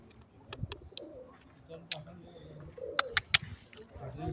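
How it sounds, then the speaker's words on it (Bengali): Pigeons and pigeon chicks at the main gate of Hira Cave: soft low cooing close by, mixed with sharp chirps and flutters, while a person talks over the birds. "এই কবুতর ছাও এদিকে আসছে সোনারা"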